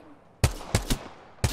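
Gunfire in a PC shooter video game: four sharp, loud shots with short gaps between them, each cracking out abruptly over a quiet background with a brief decay.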